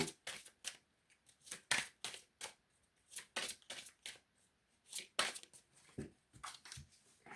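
Oracle cards are shuffled close by in a quiet room, a run of quick papery riffles and slaps in irregular bursts with short pauses between them, no voices.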